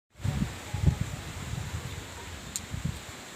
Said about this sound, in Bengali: আর একদম তুমুল ঝড়ের মতো হাওয়া দিচ্ছে।